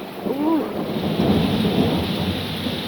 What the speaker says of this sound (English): it's thunder and lightning out, and look at the rain.